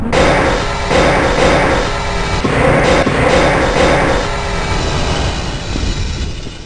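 A train moving in Half-Life, a loud continuous rumbling rattle that holds steady and then eases slightly toward the end, with no talk over it.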